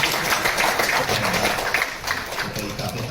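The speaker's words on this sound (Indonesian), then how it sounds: "Ketua IKP yang baru, tepuk tangan." Audience clapping for a newly appointed chairman at an alumni association event, a steady dense patter of many hands at fairly close range throughout.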